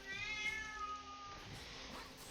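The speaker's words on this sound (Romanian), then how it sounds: "Stai că mă plânge mâțul" A cat gives a single drawn-out meow, close and fairly faint, with no talking over it.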